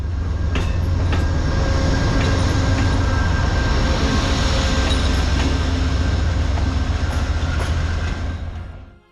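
A passenger train in Portland, Maine rolls steadily past with a deep continuous rumble and faint rhythmic wheel clatter, loud and close, fading slightly at the end.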